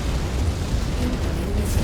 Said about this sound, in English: Commander, that mech's gonna cook off.